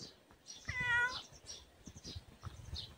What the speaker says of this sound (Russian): Кот, ты такой жирный и большой стал.